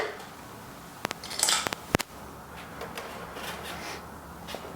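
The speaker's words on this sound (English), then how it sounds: "Go ahead and pull the knob off the side of the grinder." A knob pried off the side of a conical coffee grinder gives a short cluster of small plastic clicks and a sharp snap near the middle, close and fairly quiet against a faint room hiss.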